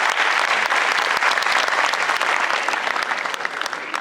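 Loud, sustained applause from an audience at a stage performance event, a dense clatter of many hands clapping steadily throughout with no talk over it.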